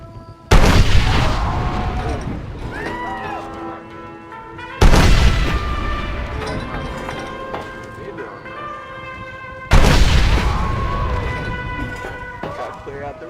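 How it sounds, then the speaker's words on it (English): Cannons fire in the Undead Nightmare video game, three loud booming blasts spaced about four to five seconds apart, each followed by a long rumbling decay with ringing tones and clatter underneath, while a voice talks between them. "Oh, we got cannons."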